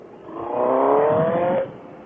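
A 2021 BMW S1000RR sport motorcycle engine swells into a loud, rising rev as the clutch is released, holds its strained whine for about a second, then abruptly drops back to a lower idle.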